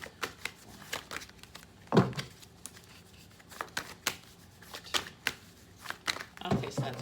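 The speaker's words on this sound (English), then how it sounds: "I'll shuffle 3 more times." Tarot cards being shuffled close up in several brisk riffles and bursts, with soft papery flutters and small taps between them.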